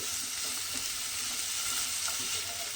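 Bitter gourd gets stirred in a pan with turmeric and a little chili powder, making a soft, even sizzle with faint stirring underneath and no voices.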